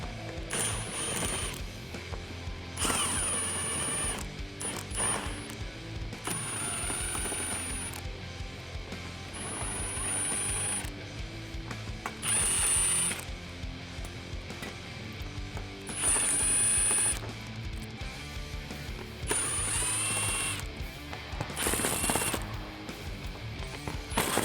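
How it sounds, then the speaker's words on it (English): Ratchet with a 7mm socket loosening belly pan screws under a 2018-2019 Mustang, giving repeated bursts of close, dense clicking separated by short pauses, with background music running throughout. "we're going to be using a 7mm socket on a lot of these screws here"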